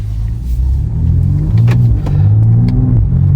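A BMW car accelerating hard from a stop on a private road, its engine revving loudly and close with rising, steady pulls and a brief dip between gear changes.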